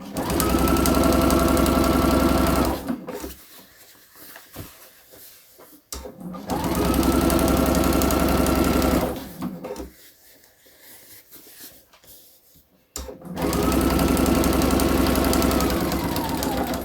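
A sewing machine stitches a jacket seam in three loud, steady bursts of rapid mechanical whirring, each lasting a few seconds and separated by quiet pauses with faint handling noises.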